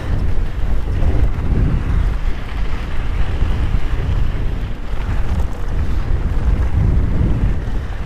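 Strong gale-force wind buffets the microphone on a moor during a midweek mountain bike ride at Stanage, a steady loud roar with gusting low-frequency rumble throughout and no talk.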